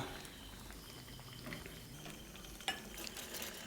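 A utensil stirs a thickening coconut-water mixture in a pan over steady bubbling and sizzling, with one sharp scrape or clink near the end.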